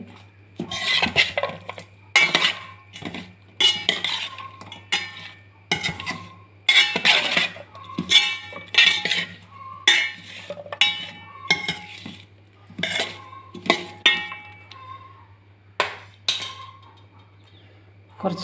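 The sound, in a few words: stirring and mixing a prawn roast masala in a pan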